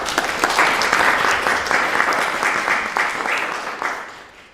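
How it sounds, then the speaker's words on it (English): A small audience applauds a life drawing model, a dense burst of clapping that starts at once, holds steady and then gradually thins out and fades toward the end. "Can we give Maya a big round of applause?"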